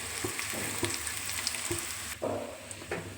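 Hot oil sizzles and crackles steadily in a pan as spice tempering with coriander and mint goes into lentil rasam, with a few soft stirring clinks and a sharper hiss partway through.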